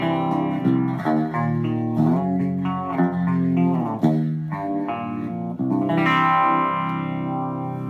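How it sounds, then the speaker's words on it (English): Guitar played through a warm, swirling vibe-style modulation effect, chords and notes wobbling steadily in pitch and tone, loud and continuous with no talking. "Here I'm using it for vibe simulation"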